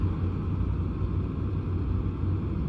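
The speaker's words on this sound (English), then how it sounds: "I'm able to hear my engine" Truck engine in American Truck Simulator, heard from the cab with the window down as a steady low droning rumble that holds evenly throughout, fairly quiet, with no talking.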